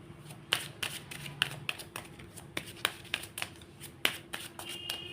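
Tarot cards are shuffled for a reading in a series of sharp, close slaps and taps at an irregular pace, with a faint steady hum underneath and no voices.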